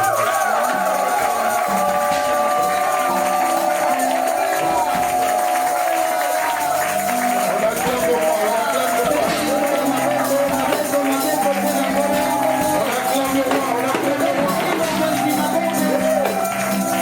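Church congregation cheering and applauding for Jesus Christ, a dense, steady roar of clapping and voices filling the room without a break from start to finish.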